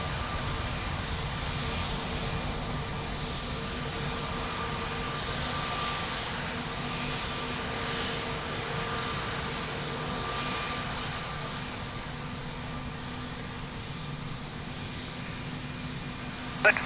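A German Air Force Airbus A319 at Lisbon Airport gives off a steady, moderately distant jet-engine roar that holds evenly throughout, with no voices over it.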